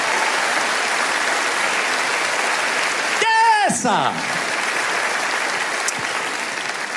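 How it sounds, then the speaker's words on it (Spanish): Church congregation applause during a Spanish-language sermon, a steady wall of clapping throughout, briefly broken by a shouted voice from the front and a short sliding tone before the clapping carries on. "Alguien tiene que aplaudir más que eso"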